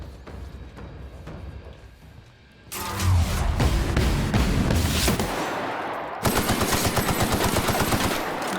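Rapid automatic gunfire in the video game The Outer Worlds, loud sustained bursts of shots after a quieter opening, breaking off briefly and then resuming as a dense rattling volley, with no speech.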